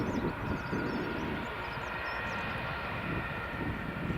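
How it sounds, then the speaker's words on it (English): A Lufthansa airliner just after landing at Edinburgh Airport, a steady broad engine roar that stays loud and even throughout, with no voices. "there's the Lufthansa just landed"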